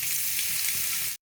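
Chopped garlic sizzling in hot coconut oil with mustard seeds, a bright continuous hiss close up and fairly loud, cutting off abruptly near the end.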